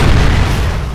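A grenade explodes in the video game Vivisector: Beast Within, a single loud, close, dense boom that fills the moment with no voices over it.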